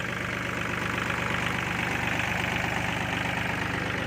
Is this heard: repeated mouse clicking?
no